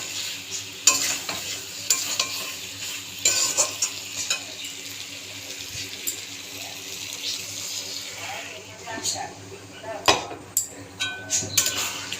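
Water poured into mutton curry in a cooking pot, splashing and sizzling against the hot spiced meat, with stirring clatter throughout and brief sharper clinks near the end.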